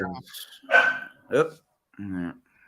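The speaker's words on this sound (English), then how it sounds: "I'm gonna mute. I got dogs." Dogs barking in a home during a live chat, a few short, fairly loud barks breaking out among bursts of human talk.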